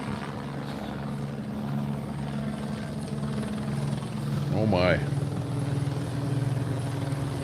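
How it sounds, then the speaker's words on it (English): Police helicopter circling overhead during a nighttime chase, its rotor throbbing steadily and loudly throughout, while a person speaks briefly partway through. "sees the chopper looking for him"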